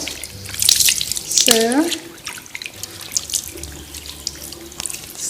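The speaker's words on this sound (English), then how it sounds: "we open the water, and then we try to wash her hair." Tap water runs into a sink while someone's hair is being washed, a steady splashing stream with drips, with a brief voice over it.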